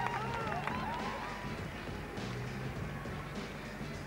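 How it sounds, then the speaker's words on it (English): A very large crowd cheers at the Miss World 1999 pageant, broad sustained roar and applause filling the hall, with whistles near the start, steady and loud throughout. "Very large cheer."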